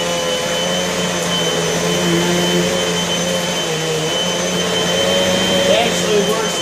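A Eureka Air Extreme vacuum cleaner runs continuously with a steady whining motor hum and faint shifting tones, close and loud throughout.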